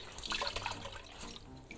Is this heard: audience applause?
no